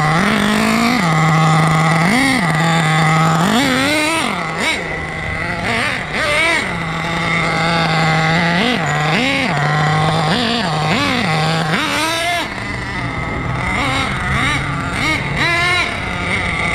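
An HPI Savage X4.6 nitro RC monster truck engine runs loud and close, blipping up in sharp repeated revs and dropping back to a steady, buzzy low idle.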